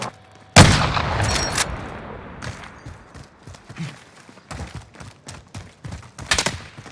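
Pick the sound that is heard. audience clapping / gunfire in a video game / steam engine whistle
gunfire in a video game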